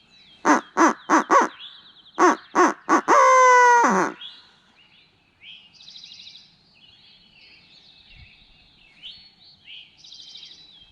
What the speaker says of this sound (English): Heard another owl. Real owl.